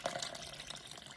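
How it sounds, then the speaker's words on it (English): Lukewarm water, 300 ml, poured into the middle of flour for homemade pizza dough, with yeast and salt set to either side; a faint, continuous trickling and splashing pour that runs the whole moment with no talk. "I just pour my water"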